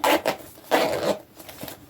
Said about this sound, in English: Let's see if it actually zips.